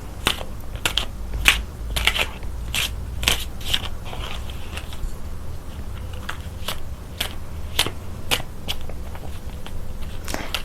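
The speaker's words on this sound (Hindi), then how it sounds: "Now I am going to shuffle the cards." Tarot cards are shuffled by hand, giving a series of sharp, close riffling and snapping clicks in irregular bursts, with no one speaking.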